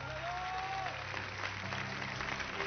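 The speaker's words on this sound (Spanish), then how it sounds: "Aplausos, por favor." Applause from a crowd at a Mexican dance event, a muffled continuous patter of clapping heard at moderate distance over a low background hum.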